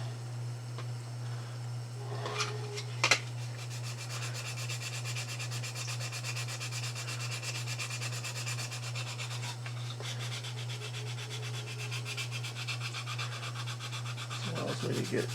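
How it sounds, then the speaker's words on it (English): A Flexifile sanding frame is worked over a curved surface with continuous, steady rubbing strokes, fairly close and quiet, with a low constant hum beneath and no talk. "Allows me to get contours here. Sanding frame."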